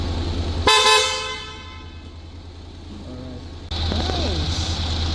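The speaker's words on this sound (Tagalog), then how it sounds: "Sa busina." A motorcycle horn, being tested during an auxiliary light replacement, blares in one long loud blast, with a second blast later and speech heard quietly in between.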